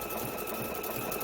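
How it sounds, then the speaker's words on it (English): A sewing machine runs steadily as it sews binding onto the fleece backing of a quilt, giving a continuous close whirring hum with a fast needle rhythm and no talking. "I just wanted to show you how I sew the binding on a fleece"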